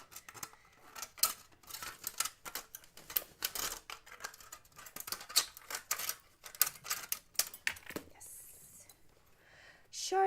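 A piece of metal cut with snips for a Princess Leia cosplay belt, rapid crisp snipping clicks in an uneven rhythm, close and fairly quiet, with occasional faint speech.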